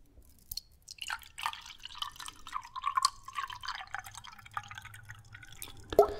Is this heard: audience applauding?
no